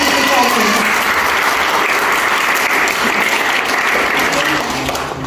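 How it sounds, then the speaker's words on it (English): Loud, sustained applause from a school audience after a performance, steady clapping throughout that tapers slightly at the end. "I would request for another round of applause for this brilliant performance."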